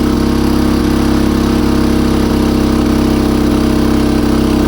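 A CHAMPION 3.5 kW gas-petrol generator in an enclosed housing runs under heavy load, with two electric kettles drawing about 3.4 kW. It gives a loud, steady engine drone with a constant low hum, close up and with no voices.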